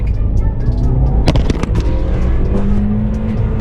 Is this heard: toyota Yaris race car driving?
yes